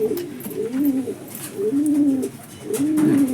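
Domestic pigeons cooing close by, three rhythmic low rolling coos in steady succession, loud and clear with no talk.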